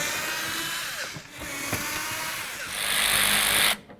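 Power driver spinning out screws from the front bumper area of a 2008-16 Chrysler Town & Country minivan, a close, loud buzzing whir with brief dips, rising in pitch near the end before cutting off abruptly.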